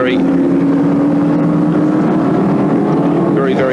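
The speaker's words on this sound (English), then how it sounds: "It's Alan Grice going through in car number 6" A 1979 Bathurst touring car, number 6, roars past on the circuit, a loud sustained engine drone with shifting pitch that stays prominent throughout while a race commentator talks over it.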